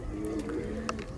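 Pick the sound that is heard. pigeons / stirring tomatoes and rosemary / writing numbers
pigeons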